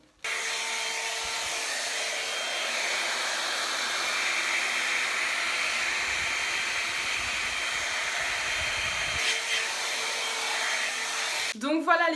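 A hair dryer blows steadily and loudly for about eleven seconds while drying adhesive hair extensions with a brush, its airflow roaring with a slight wavering before switching off with a brief clatter.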